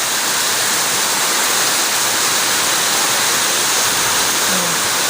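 Heavy rain and strong wind from a super typhoon roar as a dense, steady wash of noise, loud and unbroken throughout with no voices.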